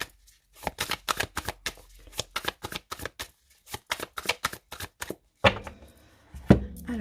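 A deck of tarot cards shuffled and cut by hand at close range, with quick riffling bursts in an irregular rhythm, short gaps between them, and a couple of firmer thuds as the deck is set down near the end.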